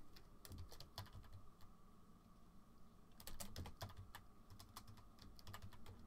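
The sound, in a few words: typing on a computer keyboard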